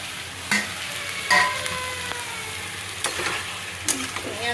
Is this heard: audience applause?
no